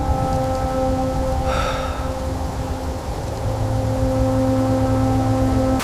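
Rain falling in a dark outdoor scene, a steady hiss of drops blended with a constant low hum and faint tonal drones, loud and continuous throughout with no voices.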